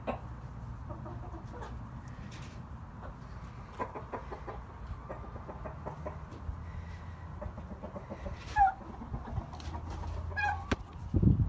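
Turkeys cluck and gobble inside a freshly cleaned farm coop, with steady overlapping chatter, scattered sharper calls and rustling throughout, fairly close and with no talking.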